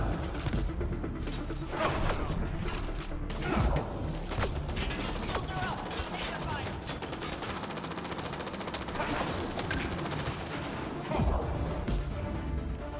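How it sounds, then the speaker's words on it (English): Explosions and rapid gunfire from combat in the sci-fi video game Mass Effect: Andromeda, a dense continuous barrage of blasts, shots and mechanical clatter under faint talk. "Lots of explosions."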